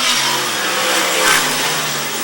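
Race cars battling for second, third and fourth place on a track near the end of a race, a loud sustained engine roar with rising revs as the cars pass close by, no talk over it.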